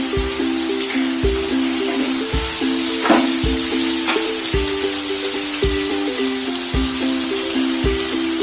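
Spices for a bottle gourd curry fry in a pan with a continuous close sizzle, a steady hum beneath, and occasional soft knocks from stirring.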